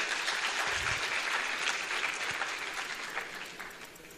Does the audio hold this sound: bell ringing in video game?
no